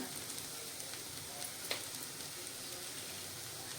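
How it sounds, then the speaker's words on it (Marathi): Kanda poha (flattened rice with onion, salt and chopped coriander) being gently stirred in a pan over medium heat gives a steady, even sizzle with no break in it and no one speaking. "हे असं पाच मिनटं आपण परतत राहूया हलक्या हाताने असे पोहे परतायचे"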